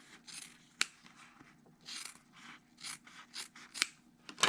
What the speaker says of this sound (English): we're going to cut this apart right on that drawn line